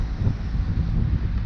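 Wind buffeting a microphone aboard a sailing boat off the Balearic Islands, a low, steady rumble that fills the whole short stretch.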